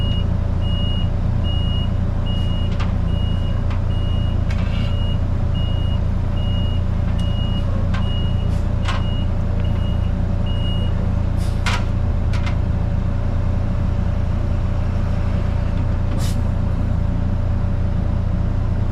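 A truck repositions on soft ground during underground oil tank removal, its reversing alarm beeping at a steady repeated rhythm over a loud constant engine rumble, with scattered clanks throughout.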